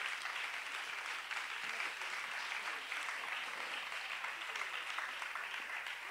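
Church congregation applauding together, a steady wash of many hands clapping at even loudness throughout, with no break and no talk standing out.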